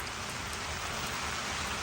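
Heavy rain pours down on rocks and gear outdoors on a wet day, a dense, loud, continuous hiss of drops with no break.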